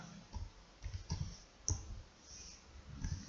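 Someone types on a computer keyboard while filling in a Mail Merge in MS Word. Irregular clusters of close, light key clicks sound over a quiet room, with no talking.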